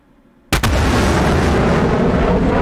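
JTAM missiles launch in a naval warfare video game: one sudden loud blast, then a sustained roaring rush that continues close and steady, with no voices over it.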